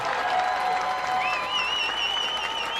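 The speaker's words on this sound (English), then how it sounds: "the crowd will get as loud as they have been all night" A high school football crowd at a home opener between Manhattan High and Free State High School roars and applauds after a fumble recovery, a sustained wash of cheering with whistles and shouts at middle distance.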